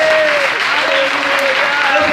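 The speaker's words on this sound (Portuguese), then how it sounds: "Você pode aplaudir, Senhor?" Loud, continuous applause from a church congregation, dense and steady throughout, with a sustained tone and voices mixed into the clapping.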